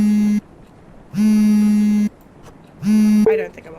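A phone rings repeatedly in a video game: three loud, steady electronic tones of about a second each, separated by short pauses, with the last ring cut short.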